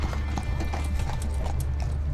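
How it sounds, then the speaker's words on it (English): A horse cart rolls along a city street, with steady clip-clop hoofbeats over a loud, rumbling background of wheels and street noise. "Horse carts"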